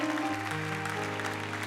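A church congregation claps for the singers and the band during a sermon, with faint, continuous applause beneath sustained organ or keyboard chords.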